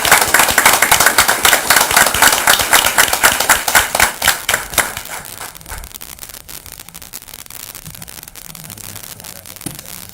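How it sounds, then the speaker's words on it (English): A roomful of people gives a round of applause at a town council meeting in Abingdon, Virginia: brisk dense clapping for about five seconds, then thinning out and fading to scattered rustle. "Let's give them a round of applause."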